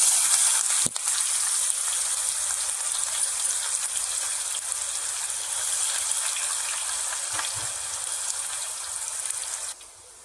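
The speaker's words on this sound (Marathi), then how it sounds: "कढीपत्ता टाकते सात चिरलेला कांदा" Curry leaves, asafoetida and chopped onion sizzle and fry in an oil-filled pan, a steady loud hiss that fades slightly over time, with a sharp clatter near the start and the sizzle dropping away at the end.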